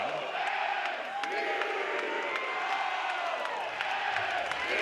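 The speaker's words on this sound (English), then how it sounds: "They are full throats in this overflow crowd in Corvallis" An overflow stadium crowd roars in a sustained, loud wall of cheering at an Oregon State vs Florida State NCAA baseball championship game in Corvallis, with a commentator talking over the noise.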